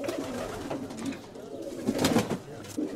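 Pigeons in a loft coo in soft, repeated low murmurs, close and fairly quiet, with several calls overlapping.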